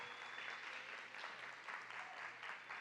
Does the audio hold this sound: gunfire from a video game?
no